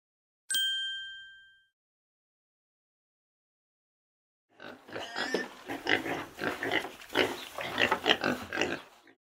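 A single bright chime rings out and fades, then after a pause a run of snorting, grunting pig noises carries on steadily, close and fairly loud.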